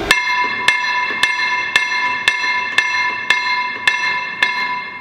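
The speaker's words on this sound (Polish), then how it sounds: "te dzwonki wtedy faktycznie tłuką głośno i wyraźnie" Electric bells at a small railway, lift and telephone equipment exhibition ring loudly and continuously with a steady metallic clang, with sharp regular strikes about every half second throughout.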